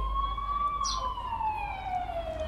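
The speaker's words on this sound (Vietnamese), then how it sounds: "Sao lại có xe cấp cứu đây?" Ambulance siren wailing in a steady, gliding tone that slowly falls in pitch, moderately close, over a low vehicle rumble with a brief brighter burst partway through.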